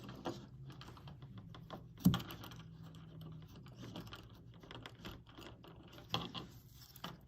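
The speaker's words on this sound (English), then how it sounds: "So we're making a stop cut right here. And then we're going to carve back to that stop cut." A knife carves back to a stop cut in wood while shaping a small comfort bird: quiet scraping strokes and light clicks recur irregularly, with a couple of sharper knocks, close and soft.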